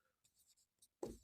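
Pen writing on paper during a maths lesson, a few quick faint scratchy strokes in close succession, ending with a short louder tap or sound.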